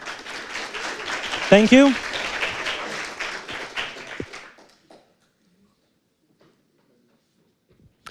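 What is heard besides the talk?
audience applause at a talk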